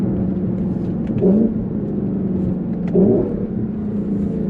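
A 2021 Lexus LC 500 Convertible engine idles with a steady low rumble, rising in two short revving bursts from paddle-shift blips a couple of seconds apart.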